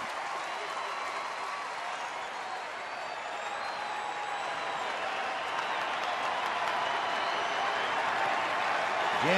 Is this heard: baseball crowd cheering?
yes